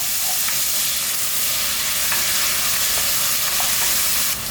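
Caribbean green seasoning stirred in a hot pot for curry lamb, a steady loud sizzle and crackle of frying with faint scraping of the spoon, close and continuous.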